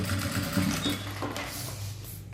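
Short burst of a sewing machine stitching a bellows lining for a unisex zippered toiletry bag, a close, steady rapid mechanical chatter filling the whole moment without speech.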